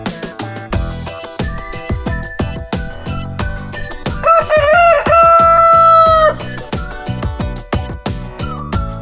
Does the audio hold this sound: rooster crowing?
yes